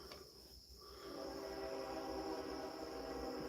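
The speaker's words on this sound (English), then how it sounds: "here goes the train. Never fails." A train passes at a distance with a low steady rumble that swells after the first second and holds, and a faint whine or horn-like tone sits over it.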